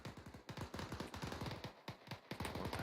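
Rapid bursts of automatic and rifle gunfire during a military field training exercise, fairly faint and distant, cracking in quick, uneven volleys with short pauses between them.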